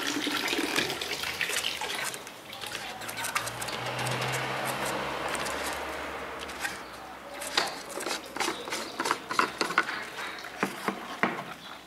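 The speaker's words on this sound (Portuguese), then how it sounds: "o Daniel vai prosseguir um pouquinho com o enxágue" Water rinses through a car's cooling system, a continuous rushing flow that gradually gives way to splashing bursts and gurgles, fairly close and without talk.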